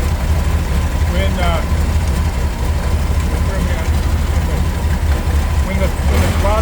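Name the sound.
VW engine idling with EMPI Pict 3 carburetor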